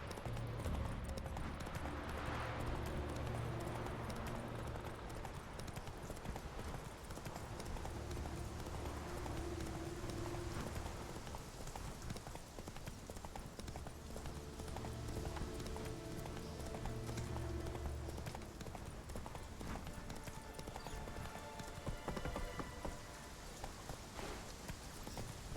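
Roach the horse's hooves clip-clop in The Witcher 3, a steady rhythmic run of hoofbeats with in-game ambience and soft sounds around it, continuing for the whole stretch.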